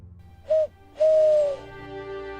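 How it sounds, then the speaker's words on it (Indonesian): A person gives a special whistled call to a horse: two clear tonal whistles, a short one followed by a longer held note that dips slightly at the end, close and alone. "Dia membuat siulan khusus, di mana Joey yang mendengarnya langsung"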